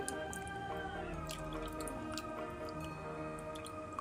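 Water poured over squeezed tamarind pulp in a bowl, heard as a quiet steady trickle with scattered wet drips and squishy splashes, close and faint, while a steady tonal hum sits underneath throughout.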